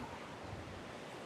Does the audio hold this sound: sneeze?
no